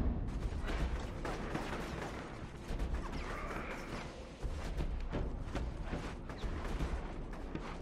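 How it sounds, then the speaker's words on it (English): Video game gunfire in Infamous, a string of sharp shots and impacts scattered irregularly over several seconds, moderately loud amid background game noise. "A lot of gunshots, guys."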